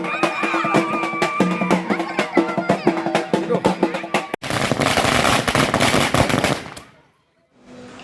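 Rapid strings of firecrackers crackle loudly and continuously at a victory procession for winning school athletes, then a dense burst of popping fades to near silence, with crowd noise underneath.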